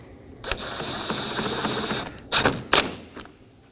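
10mm screws on a Toyota Corolla grille mounting panel being snugged down with a power driver, a close buzzing whir of about a second and a half, then two sharp clacks and thuds as tools are handled.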